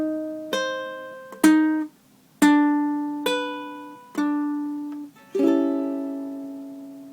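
Ukulele played in a fingerpicked blues pattern, with six plucked notes and chords ringing out one after another at a slow, even pace, clear and close, with no voice.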